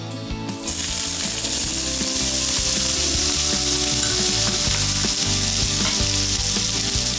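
Chopped onion hits hot oil already holding cinnamon, bay leaf and cumin seeds, breaking into a loud, close, continuous sizzle after a brief quiet start, with faint stirring scrapes and no talking.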